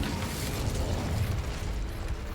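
The Incendio fire spell bursts out in Hogwarts Legacy as a dense, roaring blast of flame with crackling mechanical noise, loud and continuous throughout.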